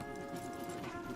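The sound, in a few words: horse hooves clip-clopping, from the video game Red Dead Redemption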